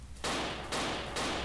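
Sustained bursts of automatic gunfire from the World War II dinosaur shooter game Dino D-Day, three dense loud volleys back to back with brief dips between them, filling the clip with no voices.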